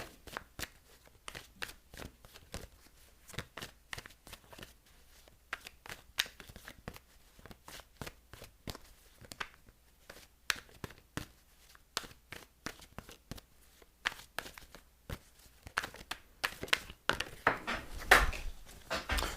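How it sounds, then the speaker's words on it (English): Tarot cards are shuffled and drawn by hand, producing quiet close bursts of papery riffling and flicking with short pauses between them, irregular in rhythm and with no voices over them. "I'm going to bring 2 more cards out."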